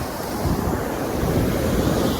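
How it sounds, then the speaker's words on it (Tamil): Water rushes over the spillway of the Iranaimadu tank reservoir in Sri Lanka as a steady, loud, close broadband roar with no voices. "தண்ணி பாயிர சத்தம் இப்ப வரைக்கும் என் காதுல கேட்டுக்கிட்டே இருக்குது."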